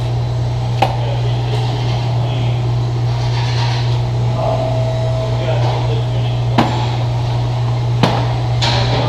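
Several sharp metallic hammer blows on a worn rear wheel bearing of a 2004 Cadillac CTS ring out, spaced irregularly over a steady low mechanical hum, close and loud.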